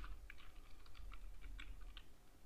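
Faint computer keyboard typing heard as a quick run of light, irregular keystrokes over a steady low background hum.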